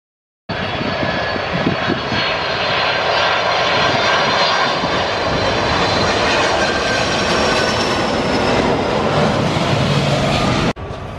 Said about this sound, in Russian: О, с пропеллерами летит такой. Не с джетом, а с этим. Старый какой-то.